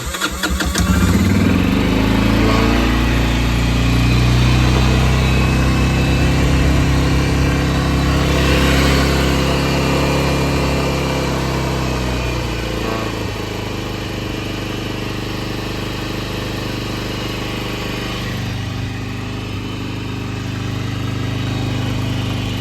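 A quad bike fired up on choke and out of gear, the engine catching after a brief crank and settling into a loud, steady, slightly uneven idle that runs throughout, no talking.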